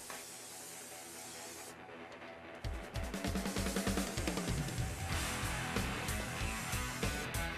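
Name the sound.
spraying adhesive from a can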